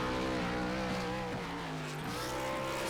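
Race car burnout in the iRacing sim game: a loud, steady engine roar with tire screech, continuous and close, pitch wavering slightly throughout.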